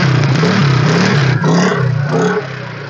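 A Hero Splendor motorcycle engine revs loud and close, a rough, throbbing mid-pitched drone that rises and falls a few times before easing off near the end.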